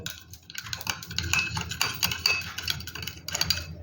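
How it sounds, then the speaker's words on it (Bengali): A spoon stirs a chilli chicken mixture with tomato sauce, ground pepper, sugar and water in a bowl, giving steady scraping with frequent light clinks against the sides. "ভালো করে মিশিয়ে নেব"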